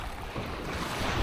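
Ocean waves wash over a shallow beach with a sandy bottom, a broad close rushing surf with wind buffeting the microphone, steady and fairly loud.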